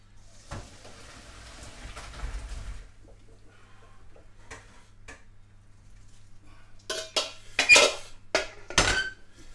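Water pours and splashes briefly as boiled potatoes are drained, then a metal pot clanks and scrapes several times, close and fairly loud.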